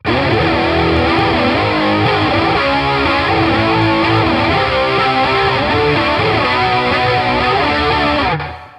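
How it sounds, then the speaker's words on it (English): An electric guitar played through a heavily distorted setup tuned for a 90s grunge sound, thick and saturated with a chorus shimmer, strummed chords ringing continuously and loud before cutting off at the end. "here I have a huge distortion setup for that 90s kind of grunge sound"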